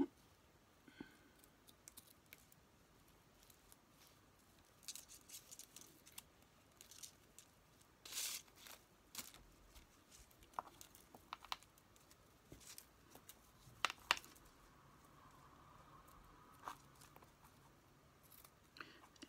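Paper being cut for scrapbooking makes sparse, quiet snips and clicks with brief rustling bursts, spread irregularly over a faint, quiet background.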